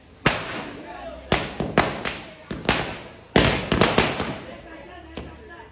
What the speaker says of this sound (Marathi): फटाके वगैरे विंचू वाजायला पण टाकलंय